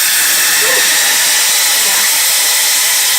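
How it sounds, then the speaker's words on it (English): A loud, steady sizzling hiss fills the whole clip as salsa roja mixture is poured into very hot oil, continuous without pause. "the oil is hot, so we are going to carefully pour in our salsa mixture"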